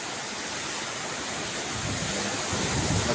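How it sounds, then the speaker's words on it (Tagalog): Sea waves surging and breaking under strong monsoon winds, a continuous broadband roar of surf and wind rumble that swells slightly louder toward the end, with no voices. "Namumuti ang mga alon mga katambayan."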